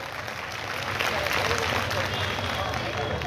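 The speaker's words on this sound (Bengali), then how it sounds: "আমি শুরুতেই একটা বড় হাততালি চাই সবার কাছ থেকে" Audience applause at a book reading festival in Sylhet, a steady crowd of clapping hands filling the room, with some voices mixed in underneath.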